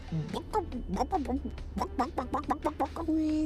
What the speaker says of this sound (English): Mama, what does the chicken say?